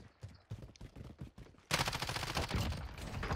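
Rapid automatic fire from the Ram rifle in Warzone, Modern Warfare, starting as a few separate shots and then breaking into a dense, loud sustained burst for the second half, close up with no talk.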